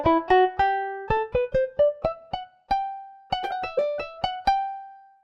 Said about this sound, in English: The Hegalong is a 2-string lute